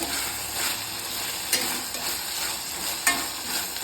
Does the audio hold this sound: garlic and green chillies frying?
yes